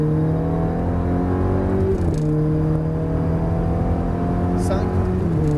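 Ferrari F430 engine pulling hard at full throttle on a race track, a loud steady high-pitched roar rising in pitch with a brief shift dip, while an instructor speaks over it.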